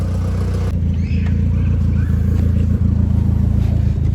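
A Honda Civic with a new turbo pulls away, its engine note steady and buzzing close by, with small clatters over the running motor.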